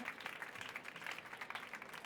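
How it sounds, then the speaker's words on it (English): Applause from a conference audience at South Summit for a speaker, steady dense clapping from a sizeable crowd heard somewhat faintly and at a distance for about two seconds. "Big round of applause, please, for Marcia."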